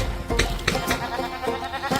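Goats bleat in a few short, close calls over a steady munching rustle as they eat apple cores outdoors in the snow, with no talk.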